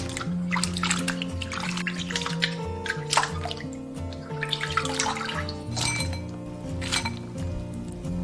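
Fresh shrimp are rinsed in running water in a home kitchen, with splashing and dripping broken by bright clinks of shells against a glass bowl, close by over soft background music.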